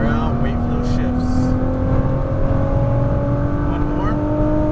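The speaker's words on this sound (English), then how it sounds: "Full throttle. Wind her out. Wait for those shifts." Race car engine held at full throttle, a loud steady in-cabin drone with rising pitch, gears shifting up partway through, under constant road and wind roar.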